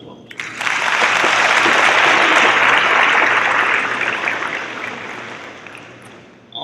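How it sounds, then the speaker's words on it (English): A large audience at a university homecoming convocation breaks into loud, sustained applause for the students, rising quickly and swelling before gradually tapering off. "let's give our students a round of applause"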